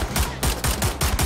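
Rapid automatic gunfire in the video game Wolfenstein: The New Order: a loud, close burst of about six evenly spaced shots in just over a second, with no voices over it.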